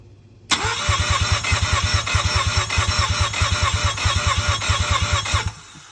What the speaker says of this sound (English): you then crank the engine